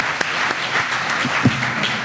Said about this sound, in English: Let's give everyone, first of all, a round of applause for this wonderful job they've done explaining reform